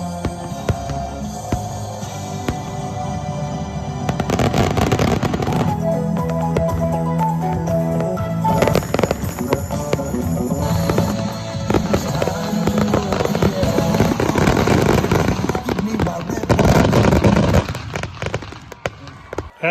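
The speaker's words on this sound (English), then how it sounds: "A rousing fireworks show capped off the evening." Fireworks finale at an evening show in Cedar City: a dense, continuous barrage of booms and crackling bursts, loud and sustained with rapid overlapping explosions.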